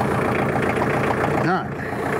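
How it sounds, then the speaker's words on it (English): A diesel tractor engine, warmed first by its glow plug, rumbles steadily at close range with a brief rising and falling whine partway through, the running engine loud and continuous throughout. "Tractor didn't sit that long, but I let the glow plug run, warm up the combustion chambers a little bit before I fire it up."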